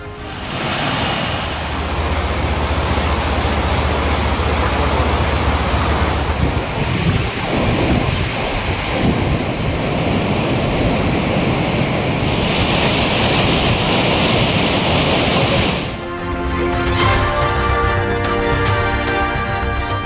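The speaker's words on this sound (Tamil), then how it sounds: "ஏரல் பகுதியில் பாயும் தாமிரபரணி ஆற்றில் பெருக்கெடுக்கும் நீர்" Floodwater surging through the Thamirabarani river at Eral, a loud, steady roar of rushing water with wind buffeting, continuous throughout, shifting character near the end.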